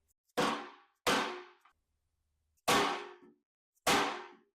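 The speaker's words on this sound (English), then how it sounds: "I don't really like that I'm hammering on a Wisefab thing." Four sharp metallic hammer blows strike a socket to drive a bushing into a Wisefab part on a BMW E90 drift car, close and loud, in two pairs separated by a short pause with ringing decay after each hit.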